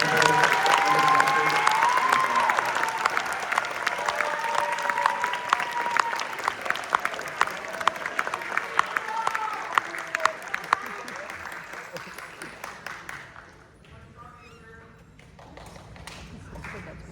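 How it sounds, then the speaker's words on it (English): A high school wind symphony audience applauds after a world premiere, a dense round of clapping that gradually thins to scattered claps and fades near the end, with a voice speaking over it. "So another round of applause."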